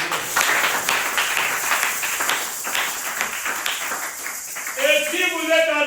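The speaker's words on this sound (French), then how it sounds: "Applaudissez pour le Seigneur." A congregation at a prayer vigil claps in a dense, steady burst of applause that fills the room, with a voice rising over it near the end.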